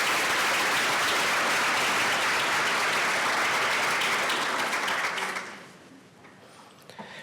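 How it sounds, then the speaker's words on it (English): Loud, dense applause from a ceremony audience in Baltimore fills the room for about five seconds, then fades to scattered claps and quiet. "Let us pause and give them a round of applause."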